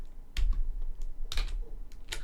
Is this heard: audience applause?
no